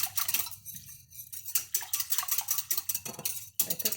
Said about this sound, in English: let's give that a little stir before we go any farther